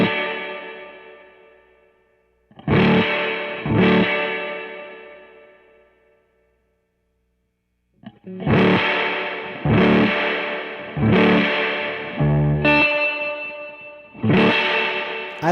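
Electric guitar through a Catalinbread Topanga reverb pedal used as a clean boost into an amp on the edge of breakup, loud gritty strummed chords ringing out and decaying, with a long pause between groups of strums.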